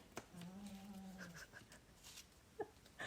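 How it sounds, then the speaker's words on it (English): A dog breathes noisily and snuffles close by, with soft whimpery tones and faint room noise. "He's laying here at my feet and he's snoring so loud."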